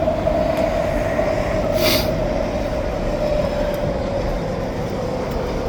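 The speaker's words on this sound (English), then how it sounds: "All Mark 1s from the SkyTrain eastbound" An eastbound SkyTrain made up of Mark 1 cars passes through New Westminster on a foggy morning. Its steady, loud rumble and rush of wheels on track fill the whole span, with no voices.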